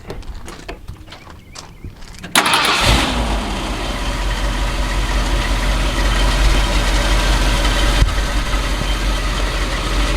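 A 1978 Ford Ranger engine catches after a jump start, then settles into a loud, steady running rumble close by after a brief burst of cranking and clatter.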